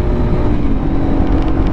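A 1990 Yamaha TW200 motorcycle engine, ridden on snowy winter roads, drones loudly and continuously up close with a rough, buzzing tone as it runs through a gear change.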